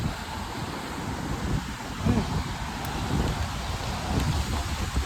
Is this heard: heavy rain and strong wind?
yes